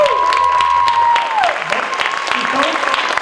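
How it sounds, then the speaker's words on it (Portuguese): Audience clapping for percussion students at a brass and wind workshop showcase, scattered hand claps mixed with crowd voices and sustained tonal sounds in a hall. "A salva de palmas para eles,"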